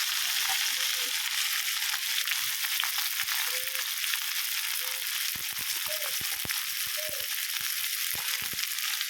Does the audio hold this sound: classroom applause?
no